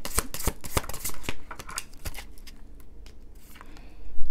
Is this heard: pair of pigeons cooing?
no